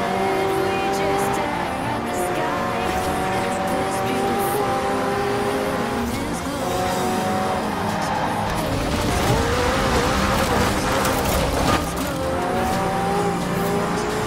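Racing car engine at full throttle, a loud sustained roar with rising harmonic whine and tire squeal, continuous and close throughout, no talking.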